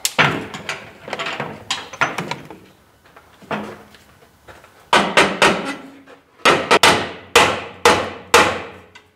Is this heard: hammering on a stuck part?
yes